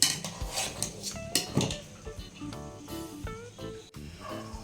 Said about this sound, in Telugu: మరొక లేయర్ బిర్యానీ రైస్ వేసుకుందాం